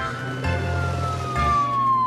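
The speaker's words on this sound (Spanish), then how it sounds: "Suena la alarma." Cartoon alarm siren sounding in a children's animation about toy cars, a steady electronic wail with gliding tones, loud and close, continuing over a low engine-like hum.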